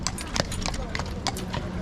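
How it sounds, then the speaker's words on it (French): A horse's hooves clip-clop at a steady walking rhythm across the central square of Lima, close by, with people talking over the hoofbeats. "Oh là le cheval."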